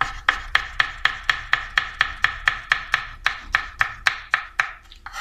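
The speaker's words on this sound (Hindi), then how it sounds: "ये हमारी टेबल स्पून हरी मिर्च जो है वो काट ली हमने" A knife chops green chillies on a board in quick, even strokes, about sixteen sharp, close taps over a few seconds, with no talking.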